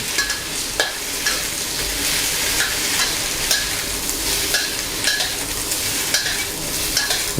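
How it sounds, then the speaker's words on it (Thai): Luffa is stir-fried with egg after garlic in a hot pan, a continuous loud sizzle broken by regular scrapes and clacks of a spatula stirring, with no voices over it. "เราก็จะตามด้วยบวบเลยครับ ผัดให้เข้ากันครับ"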